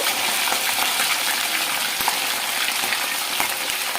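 Mutton pieces fry in hot oil for a mutton pickle, giving a dense, loud, continuous sizzle and crackle with a few small clinks and no talking.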